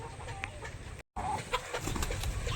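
Fighter chickens cluck amid a noisy, scuffling commotion as they fight, with a brief cutout of silence partway through.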